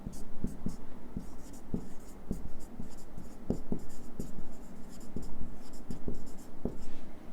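Pen or chalk writing out a line of text, a steady series of short scratching strokes with brief pauses between words, fairly close and moderately loud, with no talking over it.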